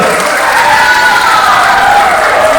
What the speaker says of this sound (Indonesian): Oke, tepuk tangannya dulu.